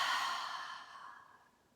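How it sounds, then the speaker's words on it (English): One forceful breathwork exhale during a yoga breathing exercise, a loud, close, airy rush that starts strong and slowly fades away over about two seconds, with no talking. "So again, our big inhale and forceful exhale"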